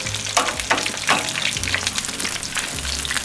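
Magnolia frozen pork lumpia frying in plenty of hot oil, a loud, dense, continuous crackling sizzle heard up close with no talking.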